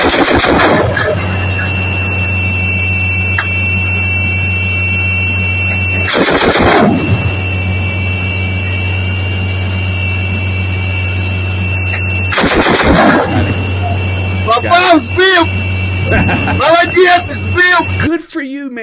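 A Gepard anti-aircraft gun fires in Ukraine in three loud, extended cannon bursts several seconds apart over a continuous engine hum, with a mechanical turret whine and shouted voices near the end.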